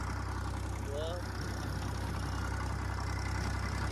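A steady low tractor engine idle drones throughout, an even rumble with no changes in pace, close by and fairly loud.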